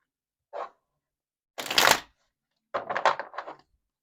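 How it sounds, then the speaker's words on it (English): Tarot cards are shuffled by hand in three short riffles, a brief flick, then a louder riffle, then a longer riffling run, close and crisp against silence. "One more shuffle."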